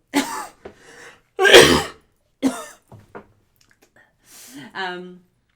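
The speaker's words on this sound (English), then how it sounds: "I'm gonna cough." A couple of harsh, breathy coughs burst out close by, separated by short pauses, with a few soft voiced sounds in between.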